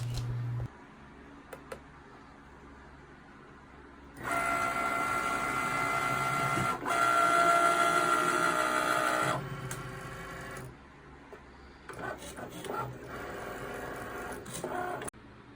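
A Cricut Maker cutting machine runs with Smart Materials vinyl loaded, a steady mechanical whir and buzz swelling loud for several seconds, then dropping to quieter intermittent motor movements and clicks, no talking.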